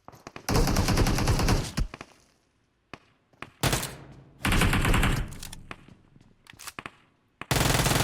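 Rapid automatic gunfire in PUBG Mobile, loud close bursts of sustained shooting broken by short pauses and a few single distant shots, with several long volleys in succession.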